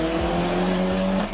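A turbocharged rally car engine with anti-lag runs loud and close, holding a steady tone with repeated crackles and pops, and no voices.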